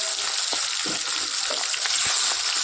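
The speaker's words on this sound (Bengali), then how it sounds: "চলো মাছগুলো এবার দিয়ে দিই" Giant freshwater prawn heads rubbed with turmeric and salt sputter in hot oil: a dense, continuous sizzle with occasional soft thumps and crackles as pieces settle, close and steady, with no talking.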